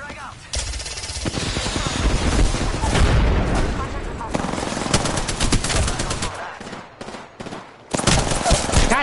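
Frag grenade blast and sustained automatic gunfire in Apex Legends, loud and dense rattling fire filling the stretch with heavy booms, mixed under game sounds.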